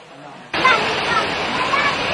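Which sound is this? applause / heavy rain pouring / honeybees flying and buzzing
heavy rain pouring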